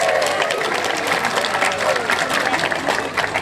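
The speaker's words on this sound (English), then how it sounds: "Give yourselves a big round of applause" An audience of zoo friends gathered for a morning event claps together in steady, dense applause, with a speaking voice rising over the crowd.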